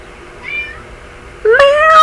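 A cat gives a soft, short meow, then a louder, drawn-out rising meow close by, with no talking over it.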